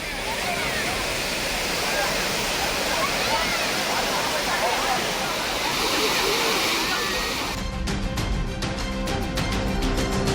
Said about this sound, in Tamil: அருவியில் நீர் ஆர்ப்பரித்து கொட்டுகிறது